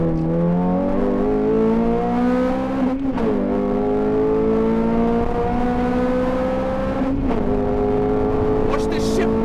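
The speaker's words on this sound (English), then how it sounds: "we'll get some exhaust noises as well" A Honda Civic Type R FN2 engine and exhaust under hard acceleration, a loud rising howl climbing through the revs with two sharp dips at gear changes, close and continuous, with a voice faintly underneath.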